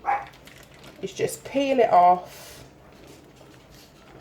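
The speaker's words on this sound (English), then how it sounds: "Excuse the pug barking." A pug barks a few times nearby in quick yappy bursts while someone talks in a kitchen as she works on a Victoria sponge birthday cake.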